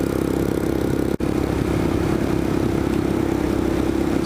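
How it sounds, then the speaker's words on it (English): A Royal Enfield Scram 411 motorcycle cruising in fifth gear, its single-cylinder engine droning steadily and loudly with wind rush and a brief dropout partway through. "we can shift into fifth gear"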